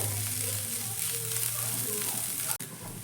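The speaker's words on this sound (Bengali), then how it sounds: "এবার দিয়ে দিচ্ছি আমি এখানে তিনটে কুচনো কাঁচা লঙ্কা" Chopped green chillies sizzle in a pan of frying ginger and garlic, a steady close hiss of hot oil lasting a few seconds, with a brief dip near the end.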